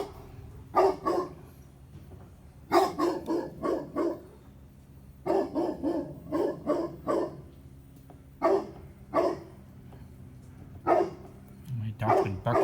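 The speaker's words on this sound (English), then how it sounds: "My dog's been barking all morning long." A dog barks repeatedly in short clusters of sharp woofs, separated by pauses, moderately close, against a low background hum.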